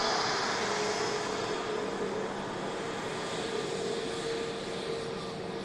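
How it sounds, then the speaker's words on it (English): Airliner on final approach at Manchester Airport, a fairly faint, steady jet rumble and hiss with a low engine tone, distant and continuous, with no talk. "Aircraft on finals."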